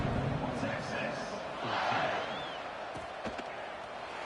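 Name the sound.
stadium crowd buzzing in College Football 26 video game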